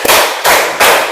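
A group claps in unison four times, a bit over a second of sharp, loud, evenly spaced claps in a classroom setting.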